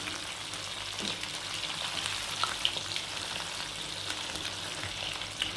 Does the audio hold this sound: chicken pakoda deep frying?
yes